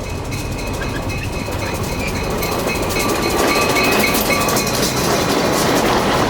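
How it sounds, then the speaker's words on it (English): An FRA track geometry inspection train runs along the railroad between Olean and Port Allegany, giving a steady loud rumble with faint rhythmic clicking and a rising roar as it draws closer. "Today's train is inspecting the railroad between Olean and Port Allegany."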